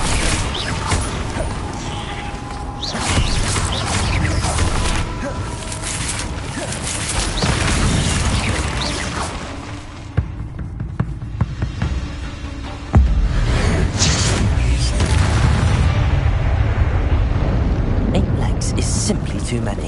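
A Bombarda explosion spell goes off in Hogwarts Legacy inside a cave: loud booming blasts, rumbling and crashing debris layered with game effects and a voice talking over the din.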